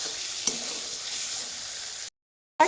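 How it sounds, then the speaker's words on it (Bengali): Steady sizzling and stirring in a hot pan as eggs and potatoes are fried with spices, a continuous close frying hiss with one small scrape, cutting off briefly near the end. "ডিমটাকে আলুটাকে ভালো করে মশলার সাথে কষাচ্ছি।"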